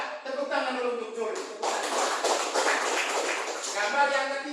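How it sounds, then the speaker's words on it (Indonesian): Schoolchildren in a classroom clap for a classmate, a short patter of applause rising midway under a teacher's speaking voice. "Iya, tepuk tangan dulu untuk Jul."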